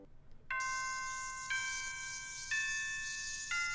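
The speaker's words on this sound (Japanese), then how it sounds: "学校のチャイム。" A school chime plays in a Japanese video game: four clear, bell-like tones ring out one per second, each note sustaining into the next over quiet background, with no speech.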